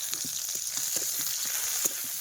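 Chillies, onion, garlic and coriander leaves frying in oil give a steady, dense sizzle, with soft spoon scrapes and light taps on the pan scattered through it, close and alone.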